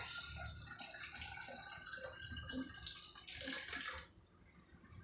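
Water runs into a container until it is about half full, a faint, continuous pour whose tone shifts as the level rises, then tapers off near the end, with no speech.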